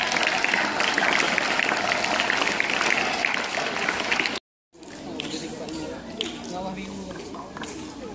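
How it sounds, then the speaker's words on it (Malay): Applause from an audience at a Malaysian school ceremony officiated by the Education Minister, dense clapping mixed with crowd noise for about four seconds, breaking off abruptly before quieter chatter and rustling resume. "Okey, baik, berikan tepukan."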